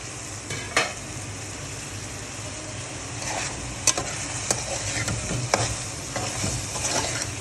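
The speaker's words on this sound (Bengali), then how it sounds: "সবজিটা কষানো হচ্ছে, কষানো হলে এর মধ্যে আমি ইলিশ মাছটা দিয়ে দেবো।" Pointed gourd and potatoes are stirred and sautéed in a pan for a hilsa fish curry, with a continuous sizzle and frequent scraping and clinking of the spatula.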